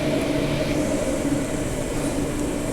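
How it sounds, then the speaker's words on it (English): A passenger train rumbles steadily nearby at an undercover station in Perth, a continuous loud mechanical roar of rolling wheels with no voices. "Here's the next Claremont train."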